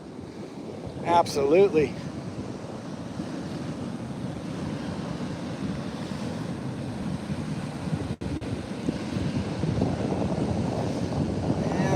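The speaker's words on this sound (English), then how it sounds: "Yeah, these waves are pretty awesome." Ocean waves break on the shore of an agate-hunting beach, a low steady wash mixed with wind rumble against the microphone, and a voice speaks briefly near the start.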